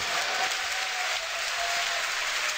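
Crowd cheering and applauding at a Dota 2 tournament match at The International 2013, a steady broad roar of many voices held throughout with no pauses.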